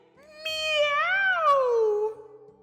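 A voice imitates a cat meowing: one loud, drawn-out meow that rises and then slides down, over faint background music.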